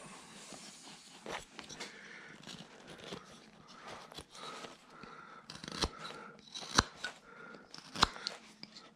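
Scissors cutting material back while shaping a Mrs. Santa Claus figure with a candy cane, a run of soft crunchy snips and rustles punctuated by a few sharper, louder clicks near the end.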